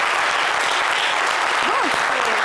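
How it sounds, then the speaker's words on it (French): Studio audience applause celebrating a football team's second title and second final win, a dense steady wash of clapping filling the whole stretch, with a brief rising-falling whistle-like tone partway through. "Ça s'applaudit."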